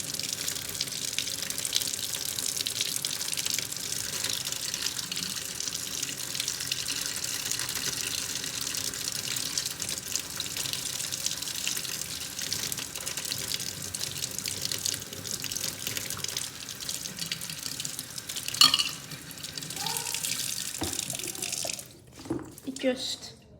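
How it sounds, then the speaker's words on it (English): Tap water running steadily onto a sponge being rinsed in a sink for fish tank cleaning, a continuous close hiss and splash that briefly falters near the end with a few drips before stopping. "Turn the water on and then just look at the sponge."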